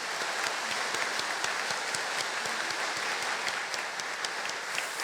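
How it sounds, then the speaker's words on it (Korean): A church congregation at a Sunday worship service claps steadily to welcome the pastor and his wife, a dense, sustained wash of applause with individual claps popping through, fairly close and even in level throughout. "우리 목사님 사모님 인사하고 들어가실 때 우리 큰 박수로 환영하겠습니다"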